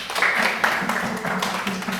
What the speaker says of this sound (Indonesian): Oke, tepuk tangan dulu buat Tika.